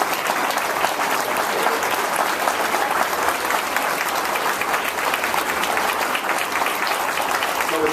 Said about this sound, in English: Stand up and applaud Mr. George Kendricks.